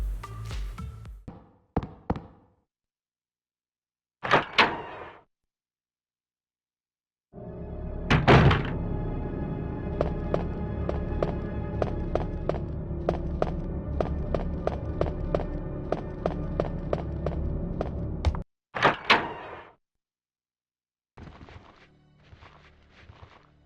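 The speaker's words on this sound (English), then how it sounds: "you opened a door and stepped straight into peril" A door opens in the Overwatch video game, part of a sequence of sharp, thudding game sounds: separate knocks, then a long stretch of rapid rhythmic footfall-like taps, and a few more hits after it, with no talking.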